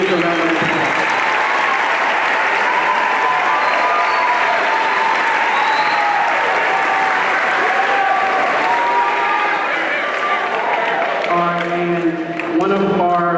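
An audience applauds students at a school band concert, with dense, sustained clapping filling the whole stretch and a few voices and tonal sounds rising near the end.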